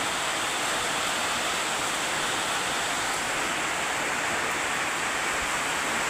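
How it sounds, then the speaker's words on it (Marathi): Heavy rain pours down steadily in a dense, unbroken hiss, loud and constant throughout, with no voices over it. "ते तुम्हाला वाटतंय लय थोडा असेल पण लय पाऊस आहे."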